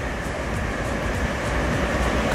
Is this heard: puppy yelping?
no